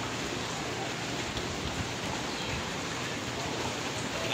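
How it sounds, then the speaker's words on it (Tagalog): Light rain falls in a steady, even hiss during a flooding storm at high tide. It continues without a break and no voices are heard. "So konting ulan lang to,"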